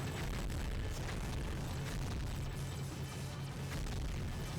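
Rocket explosions in the video game Gungrave, a dense, continuous roar of blasts and booming bursts that stays loud throughout with no talking over it.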